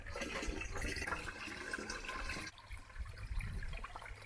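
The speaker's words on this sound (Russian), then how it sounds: "Пополняем запасы питьевой воды." Icy drinking water from a spring runs steadily into containers outdoors during a river journey down the Lena. A continuous splashing flow drops off partway through, then trickles more unevenly afterward.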